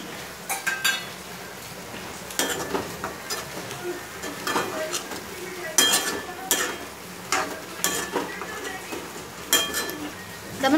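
Black peas tipped into a pan of gavar (cluster bean) bhaji and stirred, with clinks and scrapes of a spoon against the pot over a soft steady sizzle, in irregular bursts.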